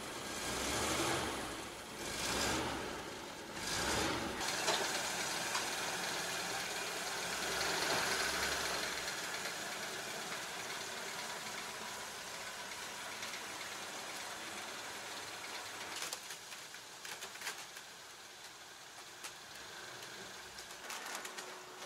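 An old Dodge car engine idling just after starting with no choke, a low steady rumble that swells and dips at first, then settles into a quieter even idle, with faint clicks and birds around it.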